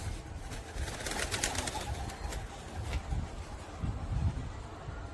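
Pigeons cooing on a rooftop, soft low calls recurring through the clip amid steady outdoor background noise, with faint wing and bird sounds.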